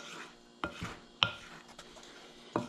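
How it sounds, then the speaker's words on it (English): Mashed bananas stirred in a bowl with a wooden spoon for banana bread, giving soft scraping knocks and taps against the bowl at irregular intervals, close and fairly quiet. "with my just a wooden spoon, I'm going to mix this up a little bit"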